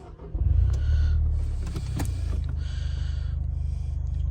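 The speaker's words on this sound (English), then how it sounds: "I'll just start the car up for you." A 2014 Nissan Juke 1.6 DIG-T Nismo engine cranks and catches, then settles into a steady low idle rumble that continues to the end, with a few mechanical clicks early on.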